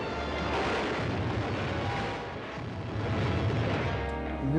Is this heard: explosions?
yes